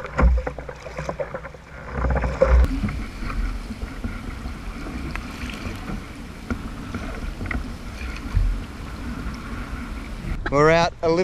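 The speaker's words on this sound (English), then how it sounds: "It is getting windy." Wind buffets the microphone on a beach during a surf-launch fishing trip, a continuous gusty rumble with someone speaking intermittently over it.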